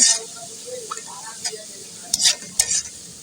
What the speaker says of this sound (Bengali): পেঁয়াজ এবং রসুনগুলোকে ভাজতে ভাজতে একদম একদম বাদামি কালার করে নিতেছি